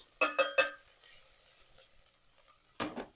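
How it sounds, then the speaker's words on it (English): Shallots go into a pan for sautéing: three quick metallic clinks of a utensil against the pan, a faint low sizzle, then a softer clattering stir near the end. "I'm going to saute the shallots first, just for a couple minutes until they actually soften up."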